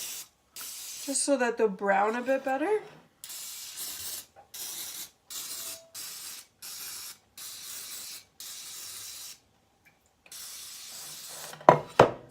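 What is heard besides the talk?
cooking spray (Pam) sprayed onto a baking pan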